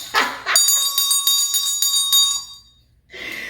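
A handbell is rung up close, one bright metallic strike that rings on and slowly fades, with brief noisy handling before and after.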